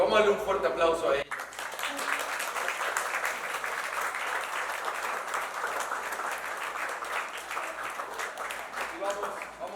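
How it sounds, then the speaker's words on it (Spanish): A church congregation at a worship service with baptisms gives a strong, steady round of applause for several seconds after a brief spoken moment, with a voice returning near the end. "Vamos a darle un fuerte aplauso a ellos."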